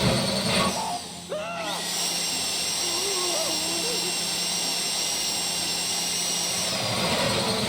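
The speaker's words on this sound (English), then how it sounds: "go in your bag, get out the drill" In Grand Theft Auto V, a high mechanical whine of a drill grinds steadily into a metal deposit box during a Fleeca bank heist, with a few rising electronic chirps and tones early on.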